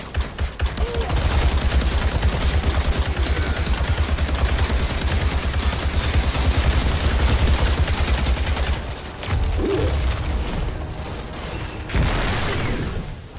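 Dense, loud automatic gunfire from the shooter game Outriders hammers on nearly continuously, with booms and mechanical clatter, a short lull, then more sustained shooting.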